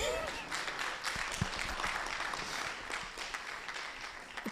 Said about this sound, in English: Thank you for clapping for me.